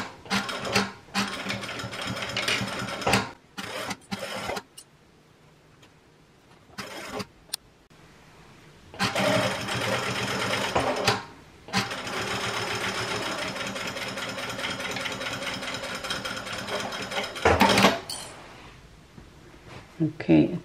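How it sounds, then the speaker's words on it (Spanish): A sewing machine stitches a large fabric tote bag in several bursts of close, rattling whir, separated by pauses filled with handling noises and brief mechanical clicks. "vamos a coser la bolsa también por esa parte"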